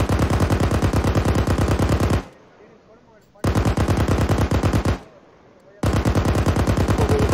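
Sustained machine gun fire in ArmA 3 rattles out in three long, loud, rapid bursts separated by brief lulls of low background noise.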